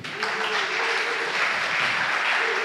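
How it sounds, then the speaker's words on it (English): Conference audience clapping together, a dense steady wash of applause that fills the room throughout, with no voices over it. "This is some applause, come on."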